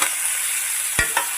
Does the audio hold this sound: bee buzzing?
no